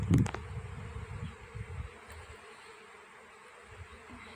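A honeybee swarm from hive number 11 buzzes around a tree in a low, steady hum, strongest in the first two seconds and then fading to a faint drone.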